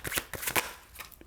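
Tarot cards shifting and shuffling on a table in a few quick papery bursts, soft and close, with a pause before a final faint rustle.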